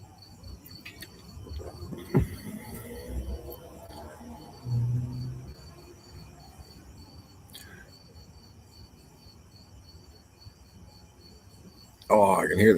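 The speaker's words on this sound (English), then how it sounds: "oh, I can hear the crickets" Crickets chirp at night in a steady, thin pulsing trill that runs throughout at moderate distance, with faint background noises and a louder bump near the end.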